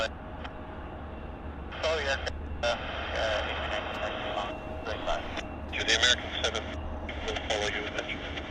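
Aircraft departing Vancouver Airport, heard as a steady distant engine roar beneath a live stream, with intermittent radio chatter and voices over the top.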